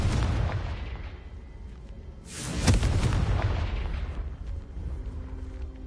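Confringo explosive spell blast in a Harry Potter video game: a single loud, close boom erupts after a quieter rumble, then decays into a long rolling tail.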